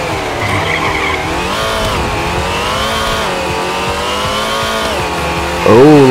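Supercharged Mazda 3 in the Nitro Nation drag racing game, a steady loud engine drone with rising pitch through the run and a sharp shift or rev flare near the end, with no talk over it.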